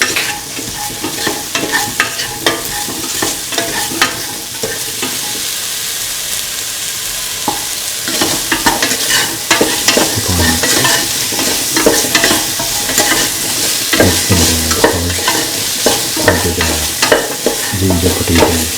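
A ginger, potato and onion rice mixture is stirred in a hot pan, loud continuous frying sizzle broken by repeated scraping and clattering strokes of a spoon throughout.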